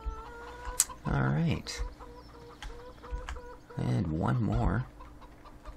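Hens cluck in two bursts of rhythmic clucking in Farming Simulator 17, heard up close over a steady background hum, while someone speaks briefly between the bursts.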